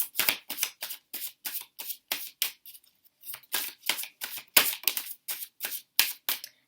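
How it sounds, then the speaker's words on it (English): Tarot cards being shuffled by hand, a rapid series of crisp riffling bursts repeating rhythmically with a short pause midway, close and clear with no talking. "we're going to start shuffling"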